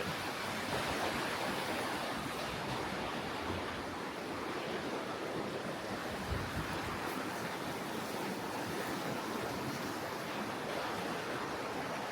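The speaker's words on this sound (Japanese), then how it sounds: "ああ、綺麗な川。" Steady, broad rushing of a river in Andermatt, Switzerland, fills the whole stretch, a continuous wash with no talking over it.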